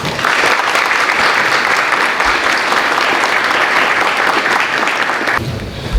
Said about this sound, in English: give Mr. Dr. Dibinga a round of applause